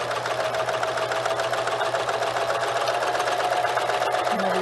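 Serger sewing machine running steadily while stitching rows of pleating and smocking, a continuous close mechanical whir with a fast even rhythm and no pauses, heard on its own.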